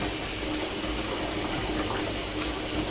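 Water splashes and pours continuously as feet step into a foot bath with Pingo Spa salt, a steady, close, rushing sound with no talking.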